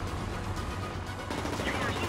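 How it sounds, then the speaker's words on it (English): Rapid gunfire in the aerial combat video game World of Warplanes, a dense, continuous burst of shots under a steady roar of engine noise. "I'm getting shot. We're getting shot."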